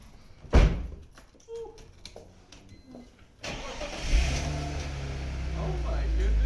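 A BMW E46 325i engine cranks and catches, then settles into a steady idle, with a door thud and people talking earlier in the clip.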